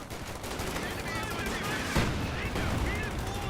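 Dense gunfire and machine-gun bursts in a Company of Heroes 2 battle, a continuous loud rattle of rapid shots with a sharper crack in the middle.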